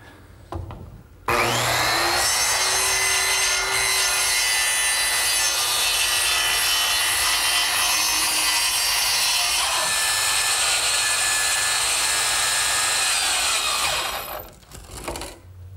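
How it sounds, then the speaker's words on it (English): A power saw cuts plywood along the lower back edge of a Shaker tall chest, one loud, sustained whining cut lasting most of the time, starting abruptly and spinning down at the end. "ready to cut out some plywood at the lower edge of the back"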